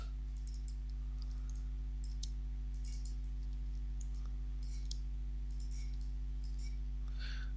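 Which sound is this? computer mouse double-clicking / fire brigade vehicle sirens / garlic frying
computer mouse double-clicking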